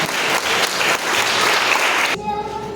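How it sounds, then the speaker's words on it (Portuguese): A church congregation bursts into loud, dense applause that fills the room for about two seconds, then drops off abruptly into quieter room tone with a faint held tone. "Aplauda o Senhor bem forte."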